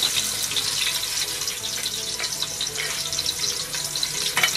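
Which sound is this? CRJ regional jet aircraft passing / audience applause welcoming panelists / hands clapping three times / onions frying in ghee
onions frying in ghee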